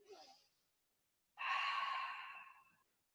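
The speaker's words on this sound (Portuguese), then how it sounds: "Tome mais uma respiração profunda." A person takes a deep breath during a guided relaxation session: a soft inhale, a pause, then a long audible sigh-like exhale, close and alone.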